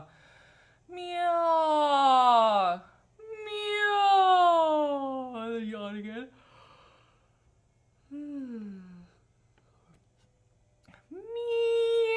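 A voice imitates a cat during a vocal warm-up, drawing out several long, sliding meows one after another with short pauses, close and fairly loud.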